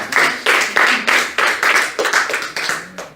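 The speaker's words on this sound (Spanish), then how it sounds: "un fuerte aplauso, por favor" An audience claps for two people at a spiritual talk, a quick run of rhythmic clapping that comes in regular bursts, fairly close and loud, with no voices.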